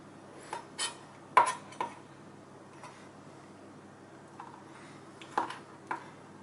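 Knife slicing fresh ginger into thin slices on a cutting board, giving a few sharp, irregular taps and knocks with quiet gaps between them.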